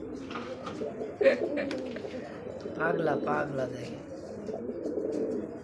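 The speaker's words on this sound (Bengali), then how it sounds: "শোনেন, একটা কবুতর ডাকানো এতটা ইজি না না" Rajgolla pigeons at a Bangladeshi pigeon sale give soft, low repeated coos, steady under someone talking close by over a constant background murmur.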